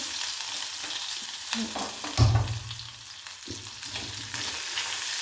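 Ground spice paste hits hot oil tempered with cumin seeds, bursting into a loud, close sizzle that slowly settles into a steady crackling fry.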